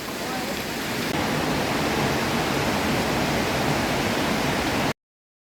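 Water cascades over rocks at a waterfall in the Jura, a steady dense roar that holds evenly loud and close for about five seconds and then cuts off.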